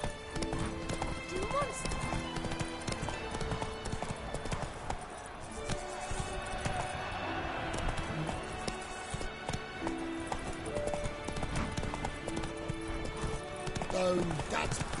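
Horse hooves gallop in a steady, fast clip-clop rhythm from start to end in The Witcher 3. A voice speaks over it and game music plays beneath.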